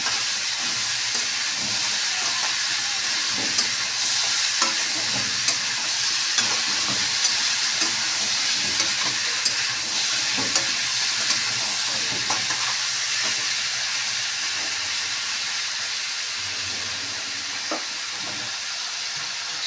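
Soybean chunks and potato stir-frying in a pan, a steady loud sizzle and hiss with occasional scraping stirs, close up and continuous without talk.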